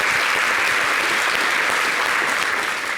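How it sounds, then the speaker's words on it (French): A studio audience at an Ivorian television talk show applauds steadily and loudly, a dense wash of clapping that holds at full strength for the whole stretch without pause. "On applaudit."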